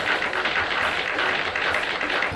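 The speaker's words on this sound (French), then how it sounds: "Applaudissons fort." A crowd applauds steadily for a woman being honoured on a televised show, a dense, even wash of clapping that carries on without pause.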